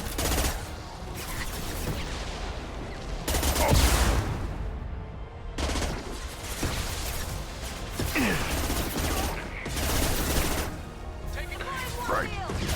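Sci-fi gunfire from the Mass Effect 2 video game: sustained bursts of rapid shots and impacts over a busy combat mix, loud and near, with brief pauses and character voices in the fray.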